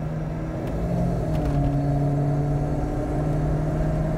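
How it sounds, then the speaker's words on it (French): A Volvo 240 with a swapped 4-litre Lexus 1UZ-FE V8 rumbles steadily nearby, a deep low idle with a slight rise in revs, no voices. "Le bruit du V8, ça reste quand même quelque chose."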